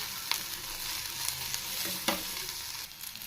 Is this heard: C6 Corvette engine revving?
no